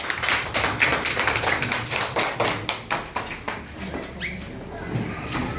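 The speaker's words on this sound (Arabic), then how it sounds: "صفقوا له" A group of kindergarten children in a classroom claps in rhythm for a classmate, sharp even claps that slow and fade into scattered taps, with voices in the room.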